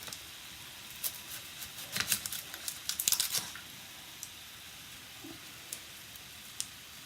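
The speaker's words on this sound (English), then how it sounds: "we need to peel the skin off the onion off" Papery onion skin peeled off by hand during cooking prep, a cluster of faint dry crinkles and small tearing snaps, then a few scattered ticks, close and quiet.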